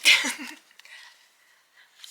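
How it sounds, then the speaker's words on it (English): A single loud sneeze bursts out at the start, then fades into quiet breathing and faint rustling. "Oh, I'm going to sneeze."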